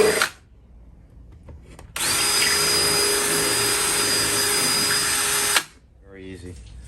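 A power drill runs steadily for about four seconds, opening up screw holes for mounting a box on a tree, loud and close with a brief whirr before it and faint talk around it.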